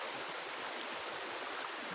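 A river flows steadily at a Laguna campsite, its broad rushing water noise close and continuous, with no voices over it.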